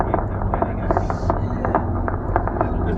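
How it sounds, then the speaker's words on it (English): People fire at police, and the gunfire comes as a steady run of repeated sharp pops over a dense, rumbling background, with voices faintly mixed in. "they're shooting back at the cops."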